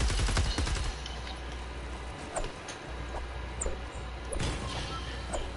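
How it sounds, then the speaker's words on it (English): Fortnite gunfire crackling in repeated bursts, a heavy volley at the start followed by scattered distant shots and faint impacts over steady game ambience. "He's shooting at you."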